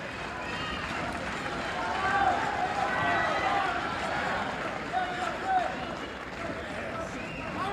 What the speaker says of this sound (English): listening to the capacity crowd here